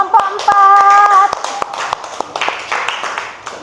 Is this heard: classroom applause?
yes